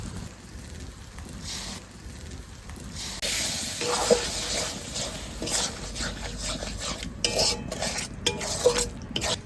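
Tamarind gravy goes into a sour taro flower dish with steady stirring, spoon scraping the pan over a bubbling sizzle, close and fairly quiet, with occasional clinks of metal.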